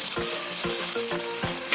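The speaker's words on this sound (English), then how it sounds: "those guys are sauteing there" Seasonings sautéing in a pan give a loud, close, constant sizzle, punctuated by a few regular scraping stirs, with no one talking.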